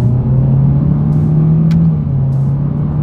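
A 2025 Honda Civic with a CVT accelerating in simulated first gear under paddle-shifter control, heard from inside as a steady, loud engine drone that rises smoothly in pitch and holds, with faint clicks over it and no talk.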